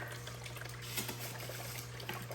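Water flows steadily over a gold prospecting mat set at a tuned angle and speed, a continuous close trickling wash with a low steady hum beneath and no talk.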